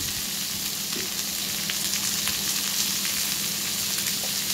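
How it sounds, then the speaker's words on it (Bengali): Ivy gourd fries in a pan with salt and turmeric, making a strong, continuous close-up sizzle with faint scraping stirs now and then, and no voices are heard. "নুন দিয়ে দিলাম আর হলুদ দিয়ে আর একটু সামান্য মিষ্টি দিয়ে আমি এটাকে চাপা দিয়ে সিদ্ধ হতে দেব।"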